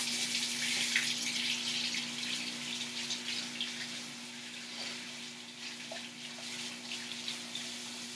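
Home-brew beer liquid poured into a fermenter, a continuous splashing, trickling stream close by, steady and fairly loud over a low constant hum, with no talking.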